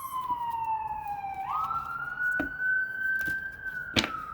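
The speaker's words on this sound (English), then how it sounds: "Excuse the sirens." A siren wails steadily, its pitch sliding up and holding, moderately distant, with a few sharp clicks and knocks nearby.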